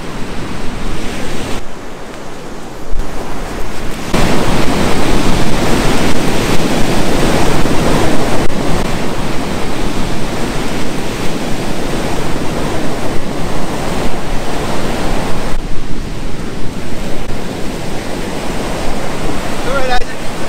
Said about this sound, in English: we're going to go run in the ocean